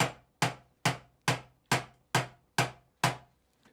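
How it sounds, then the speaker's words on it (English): A hammer drives a trunk nail through wood onto a metal backing with eight evenly spaced, sharp ringing strikes, close up and with no voices. "So I'll be holding this here as I hammer the nail in"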